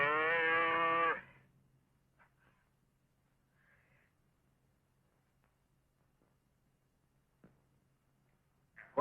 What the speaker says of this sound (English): Sounds like a calf falling.